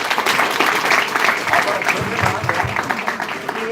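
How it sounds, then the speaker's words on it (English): An indoor audience breaks into brief, dense applause during a live counselling session, the clapping loud and continuous with a voice briefly audible over it. "Oh, give a big round of applause to Ketki."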